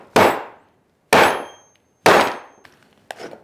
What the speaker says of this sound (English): you want to kind of keep downward pressure on the clip, the snap part, while also hammering.